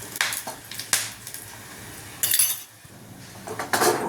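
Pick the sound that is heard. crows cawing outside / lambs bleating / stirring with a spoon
stirring with a spoon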